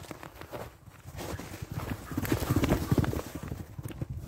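A horse gallops past, its hooves pounding in a fast, rhythmic clip-clop that grows louder as it approaches on an outdoor track, with faint voices in the background.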